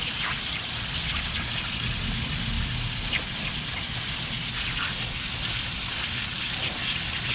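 Water pours and splashes steadily over a rainbow-striped scrunch tie-dyed tee during rinsing outdoors, a continuous close gush and trickle with no speech.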